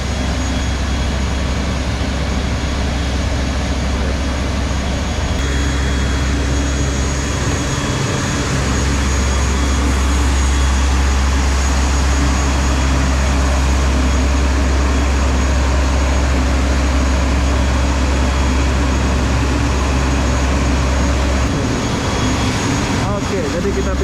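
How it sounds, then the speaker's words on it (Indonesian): Airliner engines on a flight from Kota Bharu, Kelantan, to Subang, Selangor, heard from inside the cabin: a loud, steady, broadband jet roar that continues unbroken for the whole stretch. "Oke, jadi ini adalah pesawat yang aku naik."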